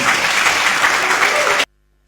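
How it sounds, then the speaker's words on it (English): An audience at the African Diaspora Summit launch in Ghana gives a loud, close burst of dense clapping that stops abruptly into silence. "A round of applause again, ladies and gentlemen."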